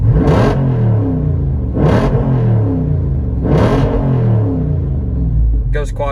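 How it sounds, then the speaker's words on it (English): A Jeep Rubicon 392 V8 revved three times while parked with a raised rev limiter, each blip a loud deep roar climbing and falling back to a rumbling idle, close up, with no talking over it. "the vehicle's in park right now, and I'm gonna rev it a couple times"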